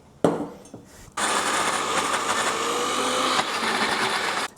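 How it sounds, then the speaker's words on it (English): A blender pureeing pumpkin starts up after a few clunks and runs at a steady, loud whir for several seconds before cutting off. "Transfer it to a blender."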